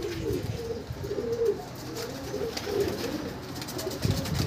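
Andhra breed pigeons in a loft give repeated low cooing calls in soft bursts, close by, with light rustling and clatter behind.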